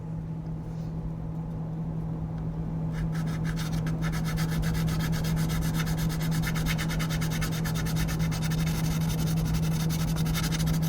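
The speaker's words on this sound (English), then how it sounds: "a 400 and an 800 grit sanding file from Alpha Abrasives, and we'll see how these sand" Model putty worked with 400 and 800 grit sanding files, steady rasping strokes scraping continuously up close, with a constant low hum running underneath and no one speaking.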